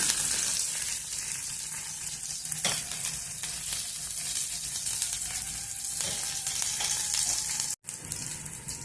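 Urad dal frying in hot oil for a watermelon chutney, a steady close sizzle with occasional stirring scrapes, heard alone with no talk.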